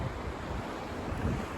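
Sea waves wash and surge in a continuous roar, with wind buffeting the microphone and no voices over the churning water.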